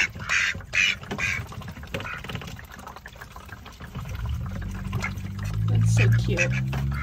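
Pet ducks quack near their water, with short nasal calls early on followed by splashing and pouring water sounds, while a person talks softly in the background.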